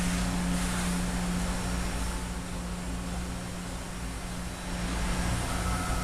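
An automated 5-axis machining center cuts a workpiece in a machine shop, giving off a steady, loud broadband hum and whir with a low tonal drone throughout, no speech.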